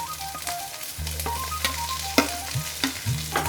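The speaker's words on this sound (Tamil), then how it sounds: "மீடியம் ஃப்ளேமில் வச்சு ஃப்ரை பண்ணிக்கோங்க." Beans, carrot and cauliflower stir-frying in hot oil over a medium flame, a loud continuous sizzle with scraping and stirring clicks from a spoon against the pan, close up and with no talking.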